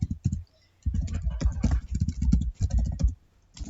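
Quick bursts of close typing on a computer keyboard, clattering keystrokes in short runs separated by brief pauses.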